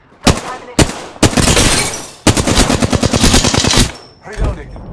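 Loud close bursts of automatic gunfire in the video game Apex Legends, several sharp single shots followed by rapid sustained volleys, then a quieter final burst.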